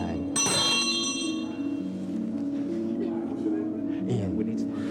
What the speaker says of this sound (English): Do you want to ring the bell?